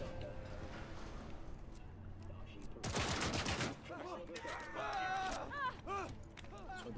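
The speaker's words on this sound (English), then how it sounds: "So them rapid fire pistols." Rapid-fire pistols in Cyberpunk 2077 let off a short, loud burst of quick shots, with game ambience and chirpy electronic effects before and after.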